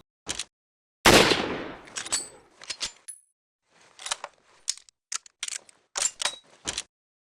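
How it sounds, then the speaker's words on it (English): Rifle sound effect from the video game Resident Evil 4: one loud, sharp bang with a decaying tail, followed by a string of short, crisp mechanical clicks and clacks separated by silence. "this is the rifle from Resident Evil 4"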